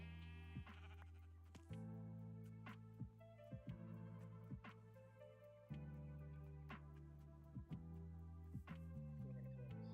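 Sheep bleating repeatedly in the Minecraft modpack GT New Horizons, several short bleats scattered over steady game background music, no talk.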